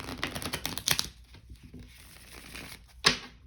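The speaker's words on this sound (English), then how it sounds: "I'm going to shuffle these up a little bit better." Tarot cards are shuffled by hand, quick papery riffles and taps coming in bursts at close range, with a louder crisp snap near the end and quiet gaps between.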